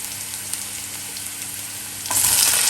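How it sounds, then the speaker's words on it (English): Tomatoes and spices land in a hot pan for Cajun chicken, a steady sizzle that suddenly swells into a louder, hissing fry near the end. "time to add the tomatoes and the rest of the spices"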